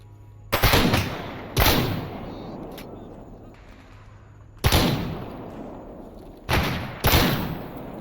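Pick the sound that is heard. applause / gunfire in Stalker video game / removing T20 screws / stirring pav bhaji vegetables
gunfire in Stalker video game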